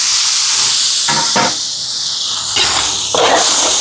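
Tomatoes tipped into a hot pan of ginger garlic paste for a big chicken meal for 200 people, with loud steamy hissing and sizzling that swells in several bursts over a constant roar.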